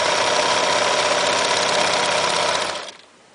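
Sewing machine stitching a fabric seam on a handmade rag doll, running in a steady fast whir close by before stopping abruptly near the end.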